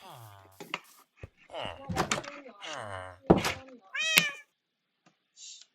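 Several close, loud domestic cat meows in short bursts with gaps, alongside a couple of dull thunks.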